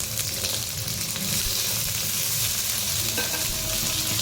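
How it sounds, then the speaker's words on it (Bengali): Capsicum, beans and carrot fry with lightly browned onion in a pan for chire pulao, making a steady, loud, close sizzle with stirring scrapes and no talk. "এবার আমরা এর মধ্যে দিয়ে দেবো ক্যাপসিকাম আর দিয়ে দেবো বিন আর গাজর"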